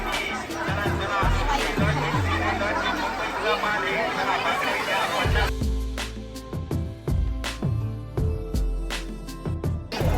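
Dense crowd chatter fills a busy Nag Panchami festival fair in Bhor, with stalls and a bhajan programme running. The babble is steady and close, and louder bursts of voices and clatter break through in the second half.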